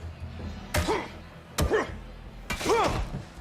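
Three heavy melee blows from a baseball bat land on an enemy in the Days Gone game, each a sharp thudding smack spaced about a second apart over low background ambience.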